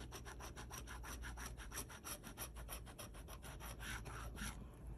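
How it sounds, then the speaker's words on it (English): Gummy lottery scratch-off tickets scraped hard and fast, a steady run of close rasping strokes that keeps an even rhythm throughout with no voices. "These are very gummy tickets. Very hard to control when you're scratching."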